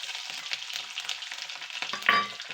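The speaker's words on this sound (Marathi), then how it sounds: "ते बरं फ्राय करून घेऊया" Cumin, mustard seeds, garlic and ginger fry in hot oil, a light crackling sizzle that swells into a brief louder burst near the end; no speech.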